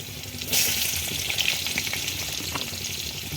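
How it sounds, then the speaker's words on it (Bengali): Potatoes dropped into leftover fish oil in a pan set up a loud, dense crackling sizzle that rises suddenly and then holds steady and close, with light stirring scrapes and no voices. "সেই তেলে আলু দিয়ে দিলাম"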